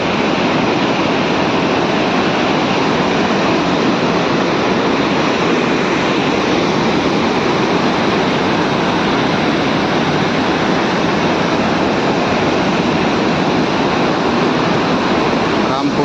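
The flooded Godavari River in Nashik rushes past in a loud, unbroken roar, a dense steady whoosh that never pauses.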